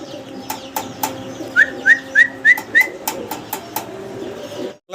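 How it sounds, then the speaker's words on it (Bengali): Young yellow Lahori pigeons coo and give a short run of repeated whistling calls, close by, amid sharp intermittent clicks and a low background hum, with no talking. "ইয়েলো কালারের লাহোরি কবুতর।"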